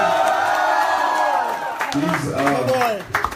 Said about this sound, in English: And Vicky, a big round of applause for